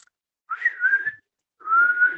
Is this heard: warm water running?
no